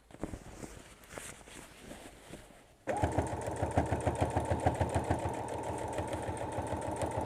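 Sewing machine stitching a quilted table runner in the ditch along its seams, starting abruptly after a quieter stretch of room noise and then running steadily with a fast, even mechanical rhythm.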